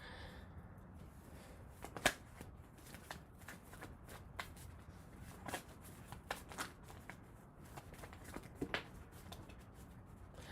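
Tarot cards are shuffled by hand in a close, quiet room, making repeated soft riffling and slapping bursts with irregular sharp snaps over about ten seconds.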